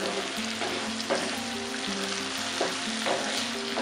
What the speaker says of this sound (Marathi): चला आता आपण टोमॅटो टाकून घेऊया. मिक्स करून घेऊया.